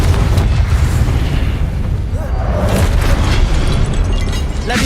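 A Confringo spell detonates in the Hogwarts Legacy video game, producing a loud, deep booming explosion whose rumble rolls on heavily and continuously to the end.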